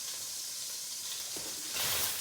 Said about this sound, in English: Now next we put in the onion.